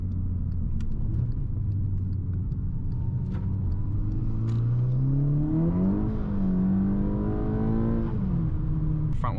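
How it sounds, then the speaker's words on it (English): A car's engine revs hard and climbs high in sport mode with a transmission tune, the pitch rising and sweeping as it accelerates, loud and close throughout. "Sport mode revs it out super high."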